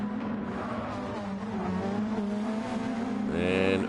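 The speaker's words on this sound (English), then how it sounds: "So cars pretty close together all over the track here." Race cars in the Gran Turismo 7 video game run close together on track, a steady engine drone with shifting pitch and a brief rise in revs near the end, while a commentator talks over it.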